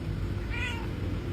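A house cat gives a single short, close meow midway through, over a faint steady background hum.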